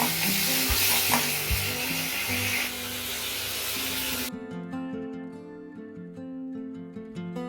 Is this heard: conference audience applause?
no